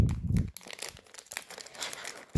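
Hello Kitty toy packaging being torn open up close, beginning with a short low rustle and then giving way to crisp, irregular crinkling of the wrapper.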